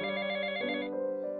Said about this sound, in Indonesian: HP Tono berbunyi.